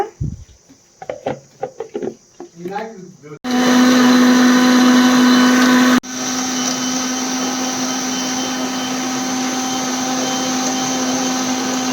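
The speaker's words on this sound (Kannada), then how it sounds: "ಈಗ ಮಿಕ್ಸಿ ಮಾಡ್ಕೊಳ್ಳೋಣ" A few soft clicks and handling sounds, then a mixer grinder blending watermelon juice with water starts with a loud, steady whirring roar that drops slightly in pitch and keeps running.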